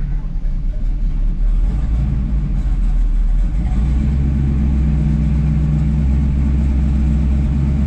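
A 1969 Chevrolet Camaro SS 396 big-block V8 engine rumbles steadily at a low idle while warming up, a deep continuous drone close by with slight revving early on.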